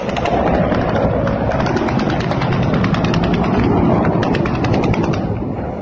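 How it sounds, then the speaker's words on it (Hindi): Russian military helicopters flying over a war zone in Ukraine, a loud continuous rotor thrum with rapid rhythmic chopping pulses that stays close and steady throughout. "रूसी हेलीकॉप्टर लगातार इन इलाकों में उड़ रहे हैं"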